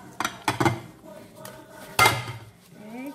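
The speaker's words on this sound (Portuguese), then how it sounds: "agora eu já vou lavar os pratinhos" Plates and cutlery clatter during washing up at home, with a few sharp clinks and knocks near the start, another clatter in the middle, and quieter handling between them.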